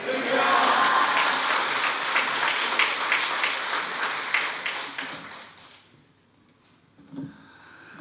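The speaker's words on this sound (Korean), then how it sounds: "뜨거운 박수로 우리 할렐루야 하면서 함께 환영하도록 하겠습니다" A church congregation at a revival service breaks into warm, dense applause, loud at first and gradually thinning out before fading into near silence, with a brief murmur afterward.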